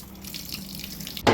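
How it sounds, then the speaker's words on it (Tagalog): Fish are rinsed in seawater, making a steady close-up swish and trickle of water that ends in a sudden louder splash. "Hugasan natin ng dagat mga bay."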